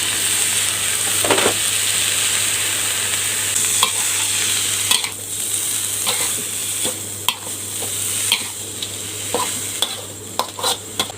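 Field rat and pickled bamboo shoots are stir-fried in a wok after a splash of water, with a loud steady sizzle and repeated scraping clicks of the spatula close by.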